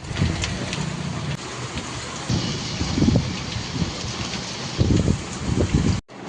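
Rain pours outside a house and reaches the home's plants, making a steady, dense hiss with occasional heavier splashing thumps. It sounds close and fairly loud, with no talking.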